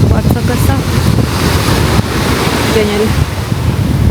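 Ocean waves wash onto a resort beach on Mahé island in the Seychelles, a continuous rumbling surf with wind buffeting the microphone, while a voice briefly speaks over it.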